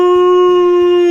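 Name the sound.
Frank the Wonder Dog howling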